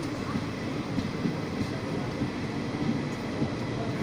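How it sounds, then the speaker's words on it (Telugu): Inside a passenger train that set out from Kacheguda, Hyderabad, a steady rolling rumble fills the carriage as it picks up speed, with faint regular wheel clicks and track rattle. "ట్రైన్ అయితే వేగం పుంజుకుంది"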